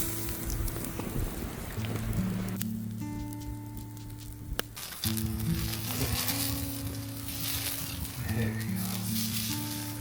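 A big, thick tri-tip steak cooking over a campfire at Lupine Lake in Flathead National Forest, Montana: a steady sizzle and crackle under wind noise and outdoor clatter, with brief talk and a sharp knock midway.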